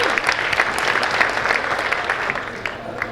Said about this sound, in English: a loud round of applause for yourselves